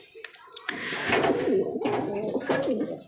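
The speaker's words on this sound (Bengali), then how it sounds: "এই কবুতরটা ডিম দেওয়ার জন্য রেডি হইতেছে" A domestic pigeon getting ready to lay eggs gives a close, soft, throaty cooing that rolls in repeated low warbles after a brief quiet opening, with faint rustling around it.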